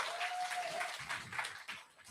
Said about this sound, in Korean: 이분들 위해서 뜨거운 박수 부탁드리겠습니다